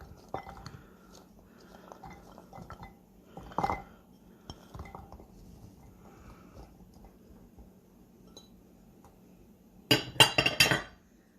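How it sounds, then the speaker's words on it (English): Potatoes and carrots being dropped and spread into a crockpot for a pot roast, giving scattered soft clinks and thuds, with a louder cluster of clattering knocks near the end and a steady low hum underneath. "So I'm going to put my potatoes in, spread them around. I'm going to grab my carrots and put them around."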